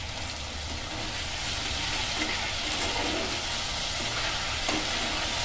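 Ginger, garlic and onion paste fries in hot oil for a Bengali pabda fish curry, a steady dense sizzle running throughout with faint stirring and no voices.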